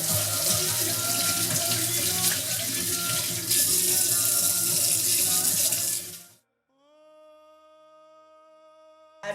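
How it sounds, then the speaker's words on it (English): Water runs steadily from a kitchen tap during handwashing before cooking, a loud, close, continuous splashing stream that stops abruptly, followed by a quiet tonal hum. "Before you start cooking, make sure to always wash your hands."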